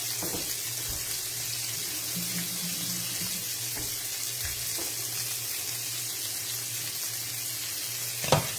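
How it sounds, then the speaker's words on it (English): Onions sauteing in a pan give a soft, steady sizzle under a low constant hum, with a few faint clinks and a sharper knock near the end. No one speaks. "And you just want to saute them for a few minutes."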